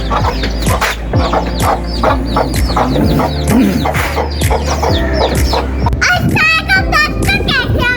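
Chickens cluck and squawk in a busy, close flock at dusk, with overlapping calls and a short crowing burst near the end, while a person talks in the background.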